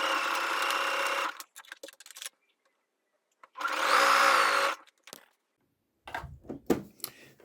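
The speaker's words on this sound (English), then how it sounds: "just pull the elastic just to stretch it out until the fabric is flat, and then just sew" A sewing machine zigzag-stitches stretched elastic onto bikini fabric in short bursts, running for about a second, pausing, then running again longer, with fabric handling clicks and rustles between stitches.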